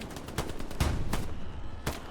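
Gunfire in the Hell Let Loose video game, several sharp reports spaced irregularly over about two seconds, one heavier low-thumping shot near the middle, set against a quiet battlefield rumble.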